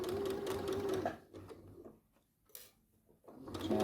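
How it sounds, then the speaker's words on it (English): A sewing machine stitches slowly around the curve of a shorts pocket bag, with a steady mechanical whirr that drops away into a pause and then starts up again. "So let the machine just guide slowly around the curve."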